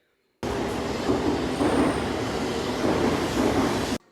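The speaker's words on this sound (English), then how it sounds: "This is my bullet train." A Japanese bullet train bound for Tsubame rushes past in a loud, steady roar of wind and rolling wheels, beginning abruptly and holding a broad, even rumble for several seconds.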